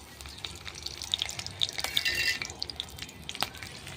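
Garlic, green and dry chillies and onion fry in hot mustard oil in a pan, giving a soft irregular sizzle with small crackles and pops and occasional scraping of a stirring spoon, fairly close.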